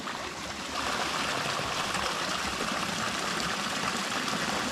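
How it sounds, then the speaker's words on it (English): Cold mountain stream rushing steadily over rocks at a spring campsite, a continuous close wash of running water with no voices. "You can see the water running there."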